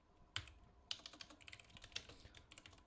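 Keys clack on a computer keyboard as code is typed for a Linux kernel module, a quiet, close run of irregular taps with a few sharper strokes standing out.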